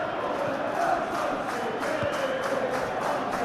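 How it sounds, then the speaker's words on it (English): A stadium crowd in the PES 2021 football game roars with a broad, steady cheer that holds at an even level throughout, sounding distant and diffuse with no single voice standing out. "the crowd clearly like what they just saw"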